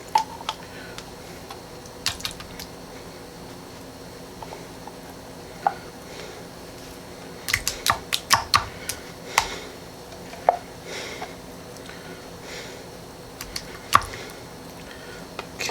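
Thick lemon cream pie filling is dumped and scooped from a 21-ounce can into a dish for a lemon dump cake, making soft wet squishes and scattered clicks of the spoon against the can, quiet and close, with longer gaps between.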